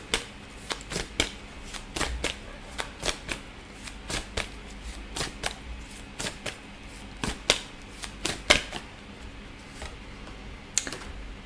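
Tarot cards are shuffled and drawn from a deck, giving a steady run of crisp, irregular paper snaps and riffling clicks, close and fairly quiet, with no talking.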